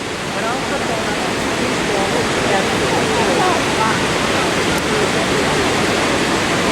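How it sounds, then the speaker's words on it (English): Iguazu Falls roars up close on the Brazilian side, a loud, constant broadband rush of falling water and mist with no pauses, filling the whole scene. "the wind is so profound from the water falling into the hole that it kicks the mist high up into the air"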